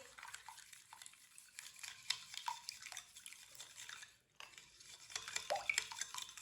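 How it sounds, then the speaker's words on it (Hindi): Cornflour being stirred into an orange candy mixture with a spoon, a soft continuous wet scraping and sloshing with small clinks, quiet and close, with no talking. "2 चम्मच कॉर्नफ्लोर डालेंगे। आप इसकी जगह मैदा भी डाल सकते हैं। इसे मिक्स कर लेंगे।"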